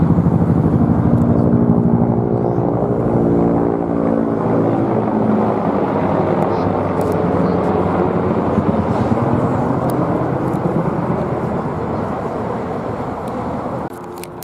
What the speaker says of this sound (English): Here comes the military chopper.